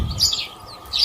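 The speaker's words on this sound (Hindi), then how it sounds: "sparrow," A sparrow gives quick, high chirps in two short bursts with a pause between them, clear and fairly close, with no voices.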